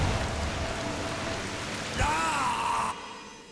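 Steady rushing waterfall in the video game Darksiders II, a continuous broadband wash of water noise, fairly faint, with a brief tonal game sound partway through before the roar drops away.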